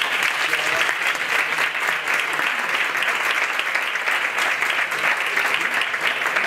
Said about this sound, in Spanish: un aplauso para todas vosotras